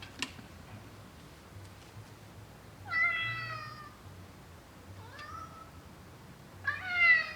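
A pet cat meows twice during a livestream, each a clear drawn-out call several seconds apart, heard close and fairly loud over a soft, low background hum with faint ticking.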